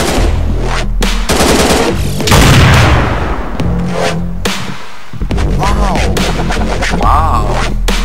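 Rapid gunfire in a video game, with bursts of automatic fire and a heavy boom partway through, loud and continuous behind the shots.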